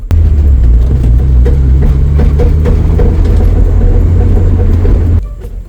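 Loud, continuous rumble of a Mazda Miata with its exhaust knocking and scraping against the car as it drives, then the engine noise drops away near the end.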